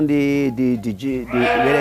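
Sheep on a farm bleat in a few loud, wavering calls close by, one after another with short gaps between them.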